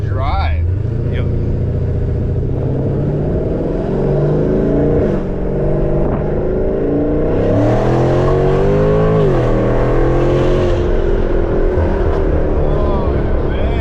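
A 426 Hemi Dodge Challenger engine revs and accelerates hard, a loud, deep roar that climbs in pitch through the gears. Voices talk over the engine.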